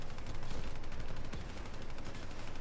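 Heavy artillery and gunfire in Call of Duty Black Ops III rattle in a dense, continuous barrage of rapid loud bursts with no speech over them.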